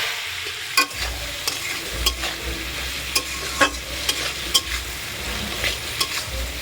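Fish tel chorchori, a Bengali fish-oil curry, cooking in a pan after the fish is fried: a steady low sizzle runs throughout with sharp intermittent scrapes and clinks of a stirring spoon against the pan, close and moderately loud, no talk.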